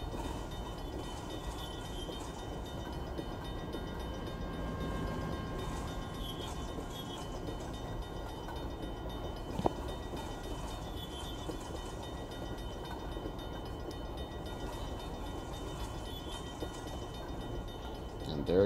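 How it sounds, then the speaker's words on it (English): An empty coal train with a DPU locomotive on a model railroad rolls past as a steady, even rumble that lasts the whole stretch, with one sharp click midway and no voices. "Here comes the DPU unit."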